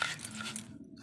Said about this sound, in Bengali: এই বিস্কুটের গুঁড়োটা করার সময় আস্তে আস্তে করতে হবে